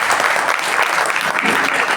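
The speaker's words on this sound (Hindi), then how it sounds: "इसलिए ताली बजाओ।" Applause from an audience at an Arya Samaj anniversary gathering in Noida, a steady dense patter of clapping that holds at full strength for the whole two seconds with no voices over it.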